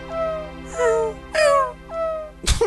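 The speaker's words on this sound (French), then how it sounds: "C'est quoi ce chien? Il est à l'agonie là." A dog whimpers in agony in Final Fantasy 7, giving a string of drawn-out, wavering whines and moans, each about half a second long, followed by a short sharp yelp at the end.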